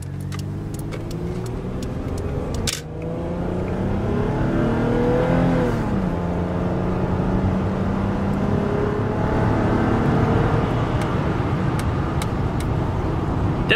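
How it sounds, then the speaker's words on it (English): A 1990 Toyota Camry LE V6 in power mode accelerates hard, its engine note climbing steadily through the gears with rising pitch after a brief shift dip, loud and close from inside the car. "let's go ahead and switch it to power mode. And we'll get a little acceleration pass."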